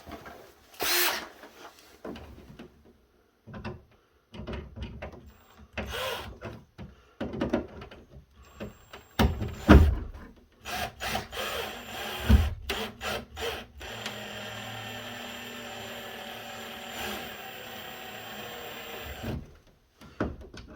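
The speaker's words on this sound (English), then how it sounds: "Now we go ahead and tighten down those screws" Screws being driven down on an electrical outlet with a power tool, short bursts of whirring and ratcheting separated by pauses, then a longer sustained run, with clicks and handling knocks of the device between.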